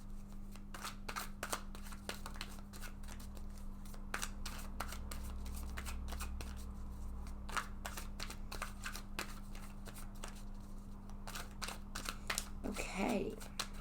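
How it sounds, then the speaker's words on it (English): Rapid, crisp riffling clicks of a card deck being shuffled repeatedly, in bursts over a low steady hum, close and fairly quiet. "So I'm just going to go ahead and shuffle this deck several times now."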